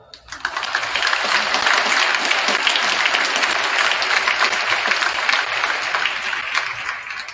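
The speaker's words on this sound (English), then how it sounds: "One more round of applause." A crowd in a high school gym bursts into loud, sustained applause that swells quickly and holds strong and even for several seconds, with a faint voice briefly heard through it.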